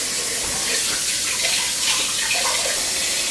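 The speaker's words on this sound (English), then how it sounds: "I'm going to wash my hands." Water from a kitchen tap runs steadily as hands are washed, a close, continuous splashing rush that lasts the whole moment without any talk.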